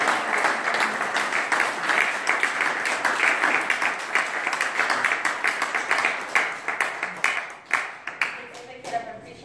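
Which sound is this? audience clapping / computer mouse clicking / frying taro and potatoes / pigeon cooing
audience clapping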